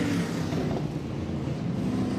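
Vintage speedcar engine running at Archerfield Speedway, a heavy, rough, steady mechanical roar held close and fairly loud, with no voices.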